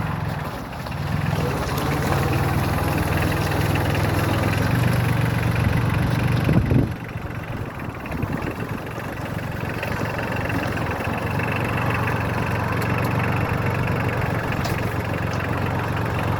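A small three-cylinder Mitsubishi diesel engine on a four-wheel-drive Solis 26 tractor idles steadily and close by, a continuous low rumble with a brief change in tone midway, no talking.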